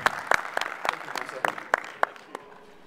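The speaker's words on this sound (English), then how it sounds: "Come on, give him a cheer." Scattered applause from a small seminar audience at a software presentation, a few distinct claps spaced irregularly over low room murmur, thinning out toward the end.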